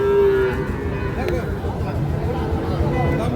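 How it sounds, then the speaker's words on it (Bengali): Sahiwal cattle at a village livestock market: a single drawn-out moo rises at the start over steady crowd chatter and nearby voices. "একটা পাকড়া শাহিওয়াল দেখছি।"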